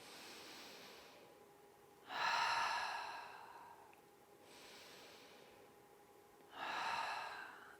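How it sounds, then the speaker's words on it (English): Slow, deep breathing during a yoga session on the back: two long inhales and two long exhales alternating, soft airy rushes close to the microphone, each lasting a couple of seconds in a quiet room with no talking. "we're just going to take 3 breaths on your back. So inhale fully, exhale"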